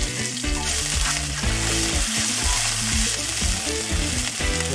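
Garlic paste sizzles and fries loudly in a hot pan, a steady close crackle with occasional stirring and no talk.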